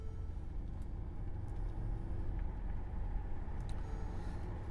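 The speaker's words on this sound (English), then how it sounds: "it is one of the most aggressive sounding vehicles you'll hear. You can really hear the turbos as well" A Mercedes AMG with a turbocharged engine and aftermarket downpipes and exhaust rumbles steadily from inside the cabin, a deep continuous drone that stays even and moderately loud, with no one talking.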